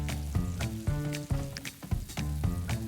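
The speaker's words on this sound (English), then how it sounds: "Heat up a large pot with vegetable oil. Introduce the vegetables" Vegetables for Japanese curry sizzling in hot vegetable oil in a large pot, a close crackling fry with stirring scrapes over steady background music.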